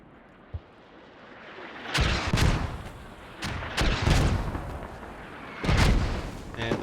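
Mortar rounds boom in a competitive military video game match: a small thud early, then several heavy blasts in clusters, each with a rumbling tail over low ambient noise.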